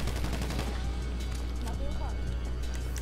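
Sniper rifle gunfire in GTA V Online, heard as sharp shots over a dense, busy game soundscape, with people talking throughout.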